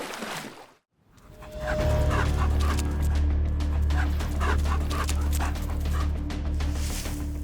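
African wild dogs hunting impala on open savanna: yips, whimpers and excited dog calls rise over a steady low rumble after a brief silent gap, dense and close throughout.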